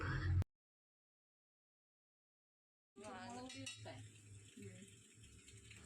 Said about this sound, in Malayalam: പാസ്ത നന്നായിട്ട് തന്നെ മിക്സ് ചെയ്തെടുക്കണം എന്നാൽ മാത്രമേ മസാലയെല്ലാം എല്ലാ ഭാഗത്തും വരുള്ളൂ